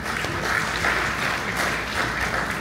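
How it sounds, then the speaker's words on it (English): A convention crowd at the FGBMFI Philippines national gathering in Cagayan de Oro claps together in a full, steady round of applause that holds at a moderate level for several seconds without speech. "Give God a round of applause for that."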